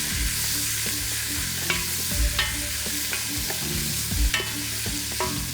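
Garlic, fennel seeds and whole peppercorns sizzle and fry steadily in a pan for slow-cooker prep, with periodic scraping stirs and clatters cutting through the constant crackle.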